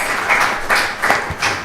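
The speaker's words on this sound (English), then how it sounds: "please give them a big round of applause for sponsoring today's Sunday feast" Scattered clapping from a temple congregation after a Sunday feast, several uneven bursts of hand claps up close, fairly light and irregular.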